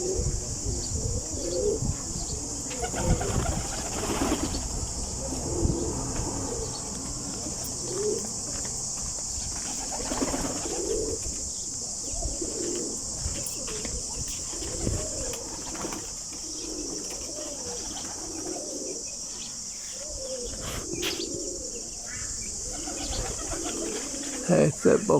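Pigeons coo repeatedly in a pigeon club yard as racing birds return and land, steady soft cooing with occasional wing flutters, while someone talks intermittently nearby.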